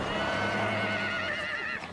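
A Przewalski's horse gives one long, loud whinny lasting nearly two seconds, wavering and sustained before it breaks off at the end, heard close and alone with no voices.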